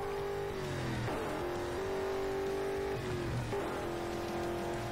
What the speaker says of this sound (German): Das ist echt richtig schöner V8-Sound.